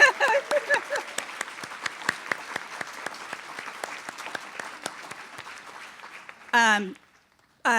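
Applause at a teacher-celebration event honoring teaching fellows, a moderate crowd clapping with distinct individual claps audible, then dying away into quiet as a voice calls out briefly near the end.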